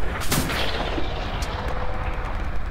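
Tank cannon fire booms in a video game battle, with heavy blasts and rumbling explosions layered over dense, continuous combat noise.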